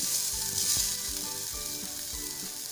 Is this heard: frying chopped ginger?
yes